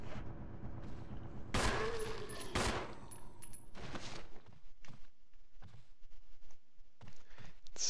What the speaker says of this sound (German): Kann jetzt auch die letzten zwei Schüsse auf ihn verballern.